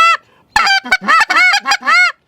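A goose call blown to mimic a goose honk: a short opening note, a pause, then a quick run of loud, nasal honks and clucks close up, with no talking.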